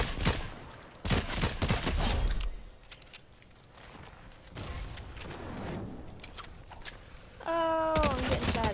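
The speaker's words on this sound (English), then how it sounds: "Oh, I'm getting shot at." Gunfire in the video game Fortnite, bursts of rapid shots in loud waves with quieter gaps between, alongside footsteps and other game effects, with no talking over it.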